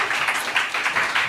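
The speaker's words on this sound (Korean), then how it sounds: "박수 한번 주세요." An audience claps together in a brief burst of steady applause, moderately loud and fairly close, with no talking over it.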